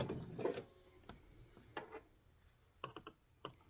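A sewing machine stitching a pleated fabric ruffle, heard faintly as a short whirring burst at the start followed by a few soft, scattered clicks and taps, with no talking.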